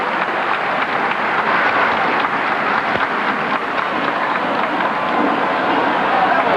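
At the 1995 All-Star Home Run Derby, a large baseball stadium crowd roars and cheers steadily as a hit ball carries to right field, forming a dense, continuous wash of noise with no clear pauses.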